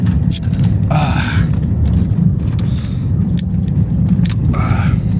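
A car cruises steadily on cruise control with a loud, constant road rumble and engine drone throughout, and faint voices or small noises surface briefly over it.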